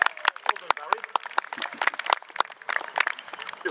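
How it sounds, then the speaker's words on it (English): An outdoor audience claps for Barry the kite at a bird display at Wildwood Escot Park, a brief patter of scattered hand claps at moderate volume. "What about a round of applause for Barry the kite?"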